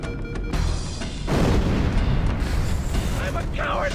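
Explosions in Halo: Combat Evolved going off amid game combat, a loud boom bursting in about a second and a half, then a sustained rumbling roar with debris-like crackle that stays heavy to the end.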